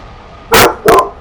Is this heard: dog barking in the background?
yes